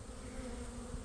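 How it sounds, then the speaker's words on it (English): Swarm of honey bees crowded into a swarm trap, a steady dense buzzing drone, faint and close, heard alone. "There's so many bees in that trap"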